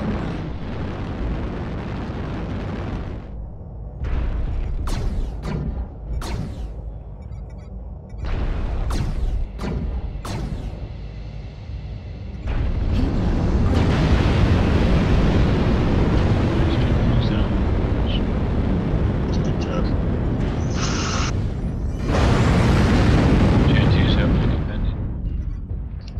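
Airstrike explosions in MechWarrior Online, with heavy booming blasts and sharp bursts that swell into a sustained roaring rumble, loud and close, while players talk over radio chatter in the mix.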